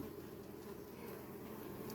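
Honey bees buzz around a beehive in a soft, steady drone with a few individuals passing close by; the hum stays faint and continuous, with no talking in this stretch.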